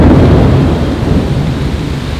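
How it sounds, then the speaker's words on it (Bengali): Heavy rain pours steadily during a violent thunderstorm, with deep rumbling thunder rolling continuously underneath; loud, dense and close, with no voices. "হঠাৎ করে বাইরের হাওয়া বদল হয়ে গেছে, যেরকম বৃষ্টি, আর তার থেকেও ভয়ঙ্কর হচ্ছে লাইটনিং"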